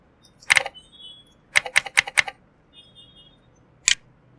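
A few crisp clicks followed by a quick run of four keystrokes on a computer keyboard, then a single sharp key tap after a pause, close and isolated against a quiet background.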